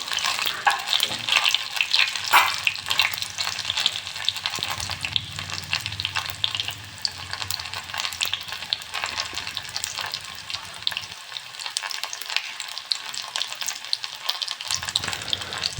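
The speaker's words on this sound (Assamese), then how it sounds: "পাঁচফোৰণ কেইটামান দি দিলোঁ, তাৰপিছত সেইকেইটা অলপ ফুটাই ল'ম" Panch phoron spices fry in hot oil in a pan while cooking a broiler chicken gizzard curry, a dense, steady sizzle with crackling pops, loud and close throughout.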